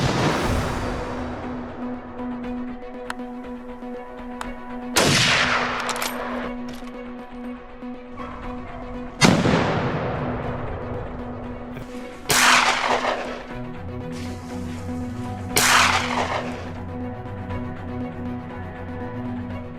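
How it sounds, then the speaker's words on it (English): Several sharp gunshot-like cracks from a .308 rifle used against wild hogs on a farm, about four loud reports spaced a few seconds apart over a steady low hum, with no talk. "The farmer, who applied for a permit, used a .308 rifle to bring down wild hogs with precision."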